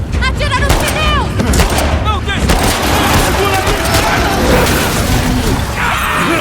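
Dense, continuous gunfire from The Last of Us Part II during a shootout in Hillcrest, with loud shots and impacts layered over shouting voices and chaotic combat noise throughout.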